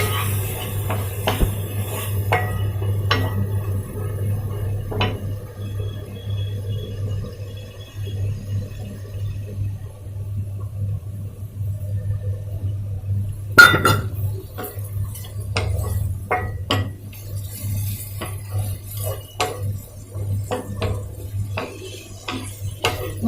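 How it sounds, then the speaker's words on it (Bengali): Spice paste mixed with water cooks in a pan for a Bengali banana flower dish, with a low steady hum under occasional scraping and clinking of a spoon against the pan, growing busier with stirring after the midpoint. "একটু ভালো করে কষাবো, কষিয়ে আমি মোচাটা দেবো।"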